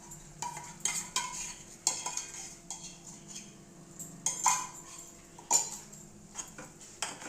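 A utensil stirring rice-flour buttermilk paste into a tempering in a pot for challa pindi, irregular scraping strokes and sharp metallic clinks against the pan, close and fairly quiet.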